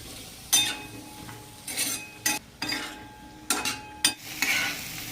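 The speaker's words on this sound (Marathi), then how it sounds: "याला मस्त असं हलवून घ्यायचं आपल्याला" Potato bhaji is stirred in a pan: a series of distinct scraping, clinking strokes of a metal spoon against the pan over a low background sizzle.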